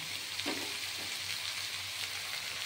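Ginger-garlic paste, dry red chilli and cumin paste fry in a pan with a dense, steady sizzle, a couple of soft stirring scrapes breaking through near the start, close and continuous with no voices.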